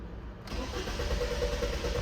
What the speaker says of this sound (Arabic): هاي دقينا سلف